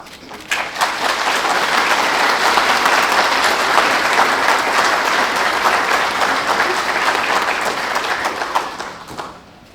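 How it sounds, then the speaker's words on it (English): Sustained loud applause from the audience at an Australia Day citizenship ceremony in Glen Innes Severn, dense clapping rising quickly, holding steady for about nine seconds, then fading out. "Thank you. You can clap."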